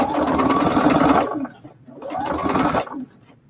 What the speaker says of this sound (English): My machine automatically does a reinforcement stitch, so I don't have to back stitch.